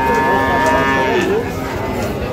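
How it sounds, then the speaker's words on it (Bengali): Sahiwal and crossbred bulls tethered at a cattle market or farm low out a long, loud, close moo that dips and rises in pitch over steady background noise. "এই যে গরুগুলো এখানে বাঁধা রয়েছে,"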